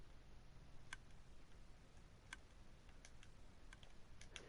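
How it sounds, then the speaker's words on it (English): Soft, irregular clicks tick over a low background hum in a Minecraft world, coming from redstone circuitry wired to fireworks and flashing lights, faint and scattered rather than steady. "What's ticking?"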